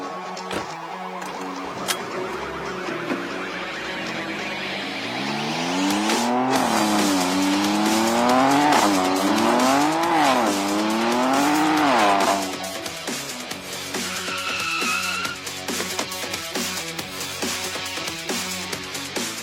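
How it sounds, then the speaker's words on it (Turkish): Fast race car accelerating hard with a rising engine whine, then tires squealing in wavering skids over a loud roaring engine, followed by music-like tonal bursts and clatter; no talk. "bugün dünyanın en hızlı arabasını sizle beraber test edeceğiz"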